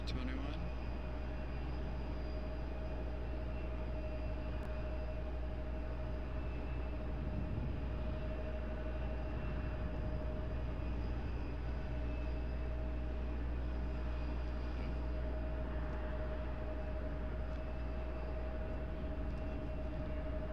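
An Airbus A320 or A321 airliner at RDU airport produces a steady, broad jet roar with a sustained whine, heard at a distance as a continuous wash of engine noise without clear talk.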